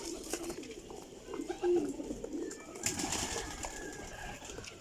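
Kasni pigeons coo softly nearby, low repeated throaty calls over a quiet background hum.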